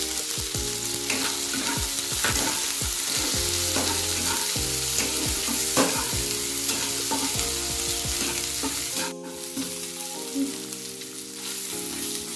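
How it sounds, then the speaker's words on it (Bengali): Constant loud sizzle of spices frying in hot oil, with frequent spatula scrapes and stirring, easing slightly toward the end; no voices. "আমার মশলাটা ভালোভাবে ভাজা হয়ে গেছে।"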